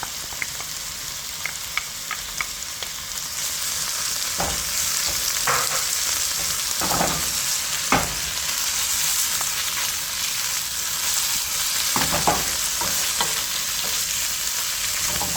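Saltfish fries in a pan, a steady loud sizzle running throughout with scattered scraping clicks and knocks as it is stirred, no voices.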